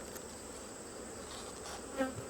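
Honey bees buzzing steadily around an open hive frame stored with goldenrod nectar, a dense continuous hum close up with a few louder passes.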